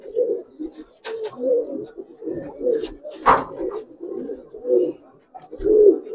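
Giribaz and colouring pigeons coo close by in repeated soft, throaty bursts, with a few brief clicks and rustles between the calls.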